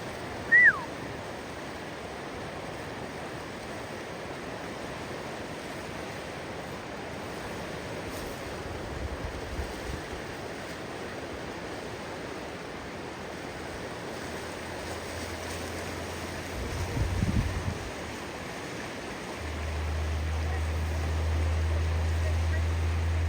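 A swollen snowmelt river in Alaska rushes past in a broad, continuous roar, with brief low rumbles rising midway and near the end.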